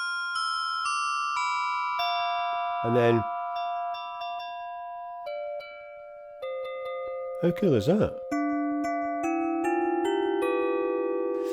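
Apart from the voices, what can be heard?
Arturia Pigments 6 software synth bell sound on virtual keyboard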